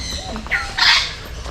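A single bird in the bird park at Essel World, Mumbai, lets out a brief, harsh squawk, close and fairly loud, over a low background rumble.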